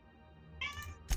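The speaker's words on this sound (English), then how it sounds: "no cat's this mouthy. Here's Missy proving me wrong." Missy, a pet cat, lets out a single loud, drawn-out meow close to the microphone, ending in a sharp burst, with no voices.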